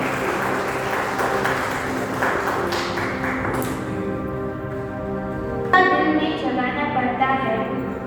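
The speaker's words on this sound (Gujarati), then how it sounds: "ફરી એકવાર તાળીઓના ગડગડાટ સાથે આપણે સ્વામીજીને આવકારીએ।" Audience applause welcoming a Swamiji at an award ceremony, dense clapping that fades over several seconds, followed by a bright ringing chime with sustained tones.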